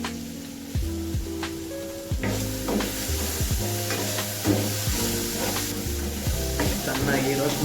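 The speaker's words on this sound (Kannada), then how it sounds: "ಚೆನ್ನಾಗಿ ರೋಸ್ಟ್ ಮಾಡ್ಕೊಂಡು ಏನಿಲ್ಲ, ಗ್ರೀನ್ ಹೆಸರು ಕಾಳೆಲ್ಲ ಬಿಸಿಗೆ ಬೆಂದೋಗು" Green gram roasting in a hot pan, with a loud steady sizzle and repeated scraping stirs that land in a fairly regular rhythm, close up, with no voices.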